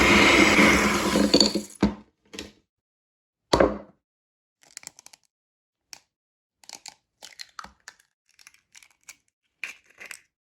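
An electric mixer whirs through soft butter and sugar in a bowl, a loud steady burst for under two seconds before cutting off, followed by sparse clinks, scrapes and crinkling handling noises.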